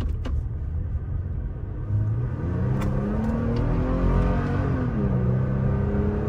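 A 2017 Toyota Tacoma Limited pickup accelerates hard, its engine droning loudly from inside the cab and rising steadily in pitch, with audible gear changes as the revs climb and drop, alone without talk.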